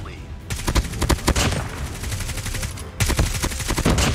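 Rapid bursts of CR-56 rifle fire in the mobile shooter Call of Duty Mobile, loud and close, with two long automatic strings separated by a short pause.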